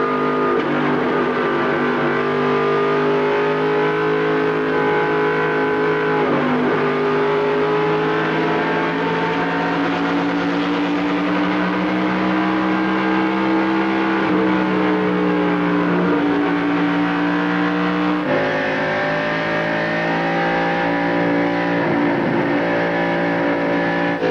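On-board sound from a 1995 NASCAR Winston Cup car at the Southern 500 on the first lap after a restart, a loud, continuous engine roar that rises and falls in pitch through shifts and throttle changes.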